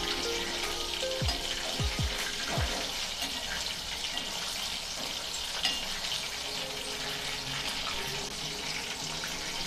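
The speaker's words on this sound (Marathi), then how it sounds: "आता आपण मीडियम गॅसवर 1 ते 2 मिनिटांसाठी हे मस्तपैकी फ्राय करून घेऊया।" Chicken 65 pieces fry in a pan over medium gas, giving a loud, continuous, close-up sizzle with a few faint low knocks near the start.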